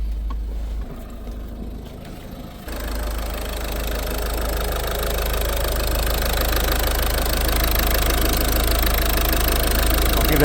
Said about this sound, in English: Bring it to idle.